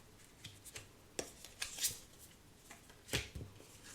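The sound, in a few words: shuffling a large tarot card deck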